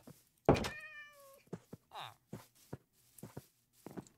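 A Minecraft cat gives one clear, bright meow that slides downward. Soft in-game footsteps and knocks follow, scattered and fairly faint, with no talk over them.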